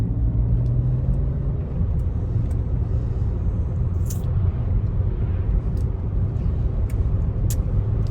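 A BMW drives along a curving road, heard from inside as a steady low engine and tire rumble with road noise and a few faint ticks, with no talking.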